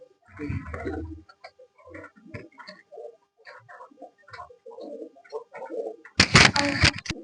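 Pet racing pigeons coo close by in soft repeated throaty calls spread across the clip, followed by a short loud burst of fluttering or rustling near the end.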